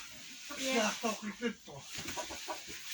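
Hens in a dark henhouse, two sitting together on one nest, give soft, close clucks and murmurs in a short irregular series, with a faint background hiss.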